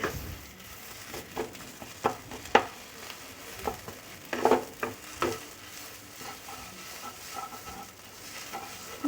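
Kochu (taro) mash being stirred together with fried spices in a hot pan, giving a soft, steady sizzle with scattered scraping and tapping strokes of the spoon, close and fairly quiet.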